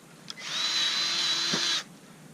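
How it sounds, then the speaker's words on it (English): Milwaukee electric grease gun running in one burst of about one and a half seconds, a steady high motor whine starting and stopping cleanly, close and alone. "This is a electric powered grease gun."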